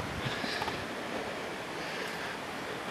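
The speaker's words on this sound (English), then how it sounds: "Windy as can be out there today." Strong wind blowing outdoors on a late-May day, a continuous broadband rush and buffeting across the microphone, fairly faint and steady with no voices.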